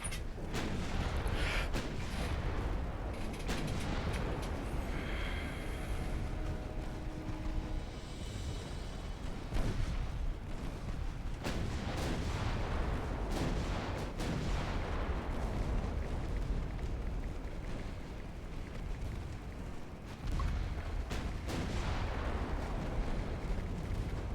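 2-inch secondary guns fire continuously in the naval warfare game Ultimate Admiral Dreadnoughts, a dense roar of booming shots and rumbling blasts layered over each other for the whole stretch.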